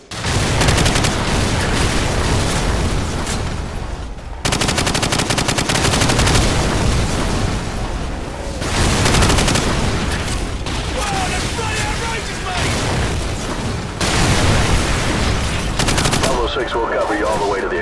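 An artillery strike and gunfire in the Call of Duty 4 video game: dense, loud automatic weapon fire and heavy booms pound almost without pause, with game voices speaking over the battle.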